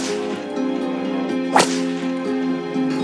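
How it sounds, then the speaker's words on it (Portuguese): A single sharp whip crack lashes out mid-clip over a steady, sustained musical background, loud and close, with no one speaking. "Ele valeu uma surra de chicote."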